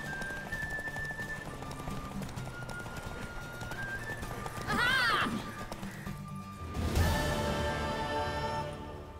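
Hooves clip-clop in a fast gallop, followed by a horse's whinny and a crash, with game music and voices around it, in The Witcher 3: Wild Hunt.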